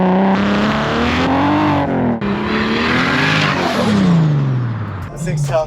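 Nissan S14 with a swapped BMW N54 turbocharged engine revs loudly up and down nearby, the pitch rising and falling in long sweeps with a brief break and a final blip.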